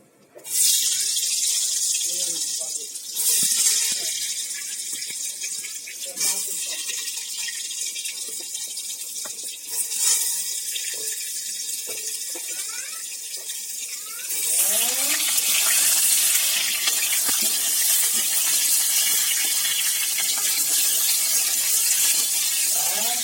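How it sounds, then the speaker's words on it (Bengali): Pointed gourd (potol) frying in hot oil with whole garam masala spices and a bay leaf, a steady close sizzling hiss that grows louder and denser partway through and carries on without pause. "এভাবে পটলগুলোকে খুব সুন্দর করে লাল করে ভেজে নিতে হবে"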